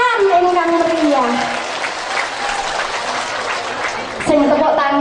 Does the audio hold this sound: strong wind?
no